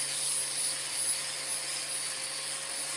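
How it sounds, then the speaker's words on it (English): Angle grinder fitted with a flat sanding disc grinding the teeth off a steel Bowie knife blade, a steady, loud, high-pitched abrasive whine with a constant hum underneath, holding even for the whole stretch. "Here I am grinding off the teeth with my flat sander on my angle grinder."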